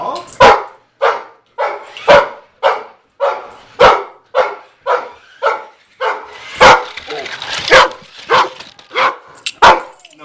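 A dog chasing a remote control car barks loudly and repeatedly at close range, the sharp barks coming in a fast, regular series with a few higher yips and some human talk mixed in.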